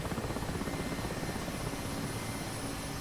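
An Mi-8 helicopter hovers in the DCS flight simulator, its rotor giving a steady rhythmic thumping over a dense, continuous engine whine, loud and without voices.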